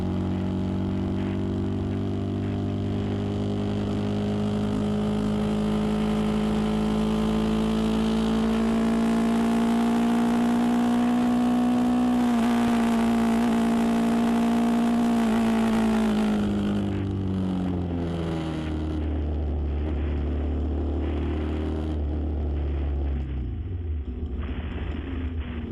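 A vehicle engine revs hard while driving, a loud, continuous drone that climbs steadily in pitch and then falls away as the engine eases off, with no talking.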